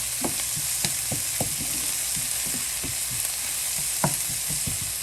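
Green pepper and beef ribs frying in a pan on the stove at medium-high heat, a constant loud sizzle broken by repeated scraping stirs at an uneven pace, no voices.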